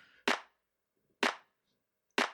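Three crisp clap one-shots from a music track, evenly spaced about a second apart, each a sharp, bright snap with a quick decay into silence.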